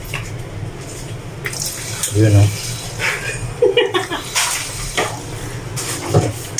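Water runs from a kitchen sink faucet fed by a tankless water pump setup, a steady splashing stream with a few louder bursts, heard under ongoing talk.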